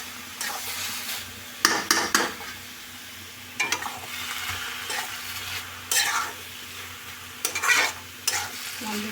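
Food being stirred in a sizzling pan, with several bursts of scraping strokes at irregular intervals over a steady low frying hiss; no talking.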